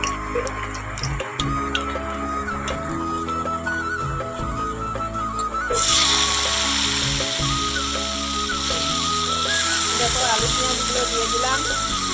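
Dried red chillies, then potatoes and onions, frying in hot oil in a home kitchen, giving a continuous sizzle with a rhythmic ticking and clinking underneath while a person talks.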